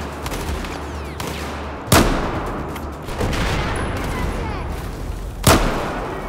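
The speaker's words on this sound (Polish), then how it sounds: "Jeszcze jeden strzał. Dobra, headshot." Gunfire in the Battlefield 4 video game: two sharp, loud shots stand out about three and a half seconds apart over a dense, continuous battlefield rumble of distant fire and explosions.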